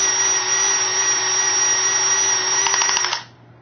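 A Bandit UL 4000C power tool tensions a stainless steel strapping clamp with a loud, steady high-pitched motor whine that strains with faint rattling near the end, then cuts off abruptly.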